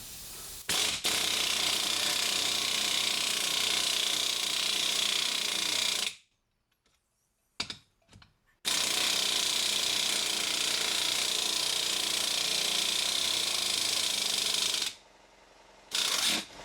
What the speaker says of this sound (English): I'm just going to use a bolt here to rattle this, pull them into place as a press